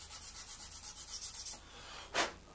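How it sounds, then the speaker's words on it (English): Dried filler on a scale model is sanded by hand: soft, faint, rhythmic rasping strokes repeat steadily, ending with one slightly louder scrub. "So we just sand these down."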